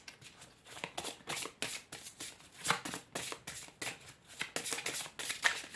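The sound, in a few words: shuffling tarot cards for a reading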